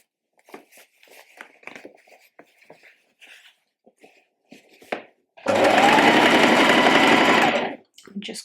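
A sewing machine shirring two layers of fabric for a top runs in one loud, steady burst of about two seconds after a stretch of quiet handling noise, with a voice talking before and after.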